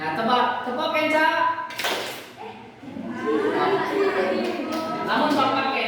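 A single sharp burst of group hand clapping breaks out in a classroom, brief and loud, with a teacher's voice and children talking before and after it.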